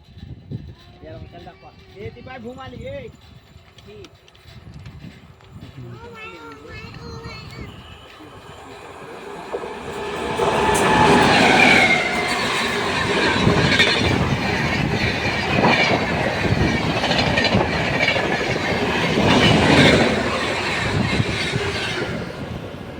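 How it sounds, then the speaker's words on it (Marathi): Someone talks briefly, then a train approaches and rushes past close by, loud rumbling and rhythmic wheel clatter filling the second half. "आणि जवळ येते ट्रेन"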